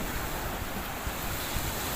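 Waves breaking steadily on Cemara Indah beach in Aceh Timur, a continuous broadband surf wash with wind buffeting the microphone, no voices.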